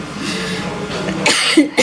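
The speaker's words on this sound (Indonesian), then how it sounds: "Aduh, batuk." A person coughs a couple of times, short rough bursts close to the listener that come after a stretch of faint background sound.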